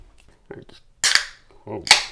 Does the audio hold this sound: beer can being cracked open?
yes